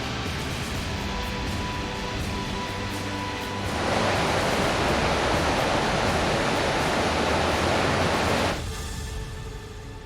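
A sparkling waterfall in a flowered valley near Jassy in Auvergne gives a steady, dense rush of falling water that swells louder for several seconds and then eases back to a softer roar.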